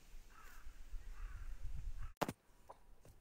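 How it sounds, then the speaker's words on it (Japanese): A crow caws once, loud and close, after a stretch of low rumbling wind and faint background noise outdoors in a rural village park, followed by a couple of faint softer calls. "鳥を発見しました。"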